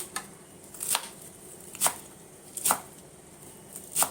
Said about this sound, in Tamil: இப்போ நம்ம கீரையை பொடி பொடியாக நறுக்கி எடுத்துக்கலாம்